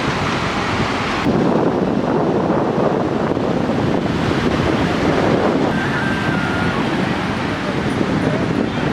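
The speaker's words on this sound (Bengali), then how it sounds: "বসে বসে হাওয়া খাচ্ছি সমুদ্রের পাড়ে" Sea breeze and waves on Puri beach at night, a loud continuous roar of wind buffeting the microphone over steady surf wash, close and unbroken.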